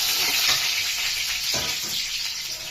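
Dried red chilies and curry leaves frying in hot oil, an intense crackling hiss that fills the clip, close and loud with a brief stirring scrape midway.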